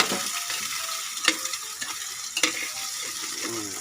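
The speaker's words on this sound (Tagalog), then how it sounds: "kikiwalin ko na siya" Food sizzles while frying in a pan as a utensil stirs it, a continuous crackling hiss punctuated by several clinks and scrapes, close up.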